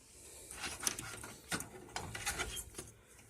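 SMPS power supply connector being pushed into a desktop computer socket, a few faint plastic clicks and scraping rattles, close and quiet with no voices.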